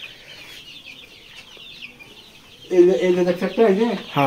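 A red deshi rooster clucks among other farm fowl at a poultry sale: soft scattered calls early on, then people talk loudly close by over the birds.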